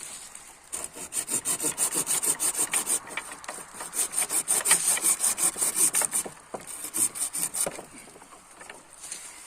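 A handsaw cuts through a tree branch during pruning in quick, regular back-and-forth strokes, pausing briefly before a few final rasping pulls.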